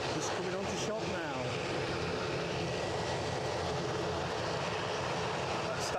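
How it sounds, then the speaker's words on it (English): An EasyJet Airbus A320 arriving from London Stansted comes in to land at Edinburgh Airport, its engines a broad, steady roar that holds throughout at a distance, with a faint rising whine near the start. "next in is an EasyJet from London Stansted, A320, just coming on to shop now"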